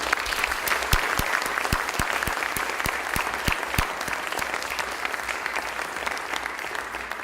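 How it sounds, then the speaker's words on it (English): Audience applause after a lecture fills the room, a steady wash of many hands clapping, with a few sharp nearby claps standing out in the first half and the sound continuing evenly to the end. "I hope that you will all join me in giving him a round of applause"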